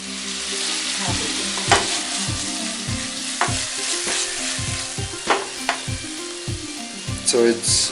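Prawns fry in a hot pan with a steady broadband sizzle, punctuated by regular stirring scrapes and clinks of a utensil, close and continuous with no talk.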